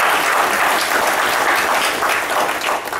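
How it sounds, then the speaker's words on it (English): Steady applause from an audience at a college update gathering, a dense continuous patter of many hands clapping, fairly close and loud throughout with no talk over it. "Let's give Jackie a round of applause"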